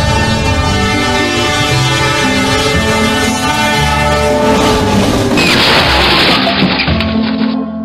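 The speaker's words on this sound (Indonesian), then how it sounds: "Dan secara tiba-tiba, Tayo, maksudnya kereta api pun datang dari arah kanan." In a GTA video game, a train rushes in from the right and slams into a Tayo bus. Its loud, sustained horn blares over rumbling, clattering wheels, then a sudden crashing burst near the end before the sound cuts off.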